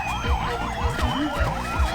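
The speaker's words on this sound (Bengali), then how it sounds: "এই ফায়ার সার্ভিস শব্দ কোন দিকে আহে" A toy fire service truck siren wails in a fast, repeating up-and-down electronic pattern, loud and close, with no talking over it.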